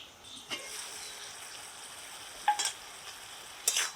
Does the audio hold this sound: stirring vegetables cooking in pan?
yes